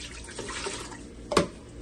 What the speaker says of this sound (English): We're going to go ahead and pour in 2 cups of water.